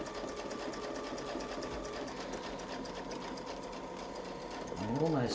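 Sewing machine stitching a wreath design along a Westalee template, its needle running in a fast steady rhythm throughout at close range, with a brief rise in pitch near the end.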